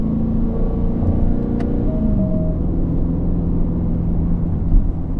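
Engine note of an Aston Martin Vantage with 665 horsepower, accelerating in track mode on a Tokyo street, a steady loud rumble with a rising tone partway through, heard from inside the car.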